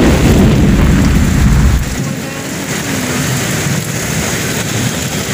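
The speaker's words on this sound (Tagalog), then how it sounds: "Kumukulog na naman." Thunder rumbles low and heavy through a downpour in Tiaong, the deep roll fading after about two seconds while loud, steady rain keeps hissing on around an open, roofless vehicle.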